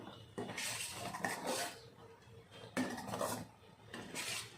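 Coconut milk khoa thickens in a pan on high heat while being stirred constantly, producing repeated scraping sweeps and soft metallic clinks in uneven bursts, fairly quiet and close.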